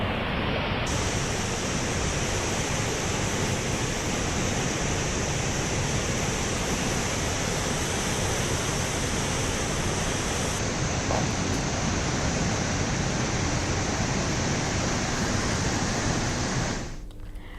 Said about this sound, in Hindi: सिरवेल महादेव का झरना पर्यटकों के आकर्षण का केंद्र रहता है